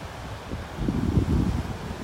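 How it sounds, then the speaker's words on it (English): Strong wind at low tide on a Gulf beach in North Naples, Florida, buffets the microphone in gusty low rumbles that swell louder midway, with no voices. "Up here in Area 4, where I usually start in the morning, it's really windy."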